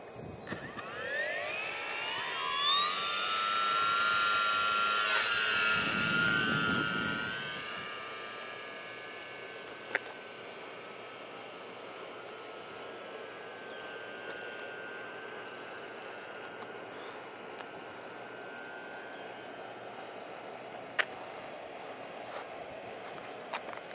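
A small model airplane engine whines loudly at first, then drops to a steady distant drone over a long stretch during an endurance test flight, with occasional clicks.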